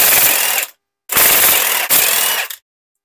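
A ratchet wrench clicks rapidly in three bursts of quick pawl clatter, close and loud with short silences between, as bolts come out of a Ford Mustang T5 transmission case.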